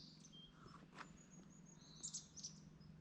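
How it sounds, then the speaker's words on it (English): Birds chirp near Devils Tower, giving faint scattered tweets and short calls over quiet outdoor ambience, with a small cluster of brighter chirps toward the end. "But just listen closely to the birds"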